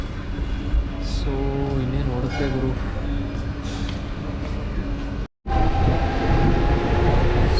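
A train pulls in at Banavara junction, a steady rumble of rolling carriages and rail noise filling the scene while someone talks over it, with a brief dropout near the end.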